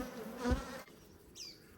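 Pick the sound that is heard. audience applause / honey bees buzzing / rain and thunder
honey bees buzzing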